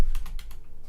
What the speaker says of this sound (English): Sorry, I'm typing and it just decided to refresh while I was typing.